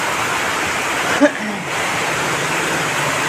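Heavy rain pours down steadily over a village, a dense, even hiss filling the whole stretch, with a brief faint knock partway through.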